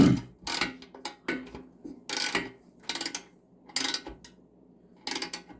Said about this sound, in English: So now he's gonna tighten this top bolt.